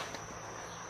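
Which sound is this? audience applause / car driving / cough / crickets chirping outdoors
crickets chirping outdoors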